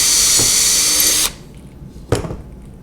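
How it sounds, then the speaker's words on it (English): A loud power drill whirs steadily for just over a second, drilling an access hole through a drilling jig, then cuts off, leaving a quiet room with a couple of sharp knocks. "Now with the drilling jig, I want to drill an access hole in here for the Allen key."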